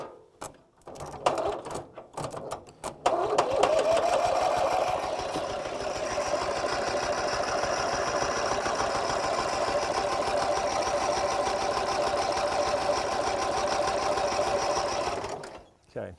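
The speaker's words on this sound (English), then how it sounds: "I'm going to turn this on one more time, and if that doesn't, if it doesn't fire, we're going to do some work here on the magneto." An M274A2 military Mule engine cranking over without firing, a rapid mechanical chugging after a few clunks, steady and close for over ten seconds before stopping, with someone talking at the start.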